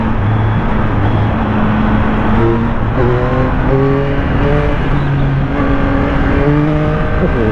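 A 2023 Yamaha XSR900 motorcycle pulls hard in third gear, its engine note climbing steadily in pitch and loud throughout, with the rising tone repeating as the bike accelerates through the rev range.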